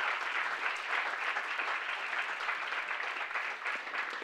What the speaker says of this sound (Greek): ξεχάσαμε να χειροκροτήσουμε την κυρία Νίκη Σερενίδου